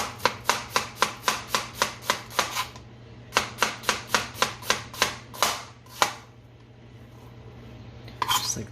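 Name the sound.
knife slicing an onion on a cutting board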